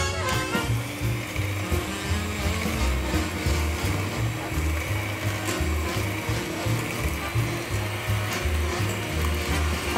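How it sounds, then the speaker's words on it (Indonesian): An electric mixer whisks almond cappuccino sponge cake batter with sweetened condensed milk until fluffy, a loud continuous motor whir with rhythmic grinding pulses running for the whole stretch. "Kita kocok sampai mengembang."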